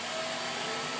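A vacuum cleaner runs at a steady, loud, close whine with a broad airy roar, unbroken throughout and with no talk over it.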